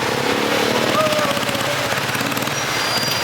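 Motorbike traffic fills the hot city centre of Dumaguete in the Philippines, a steady, buzzing engine drone close by with no clear breaks.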